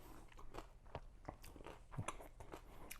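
Crisp, close bites and chewing of crunchy homemade fermented sauerkraut, several sharp crunches spread across a few seconds with no talk.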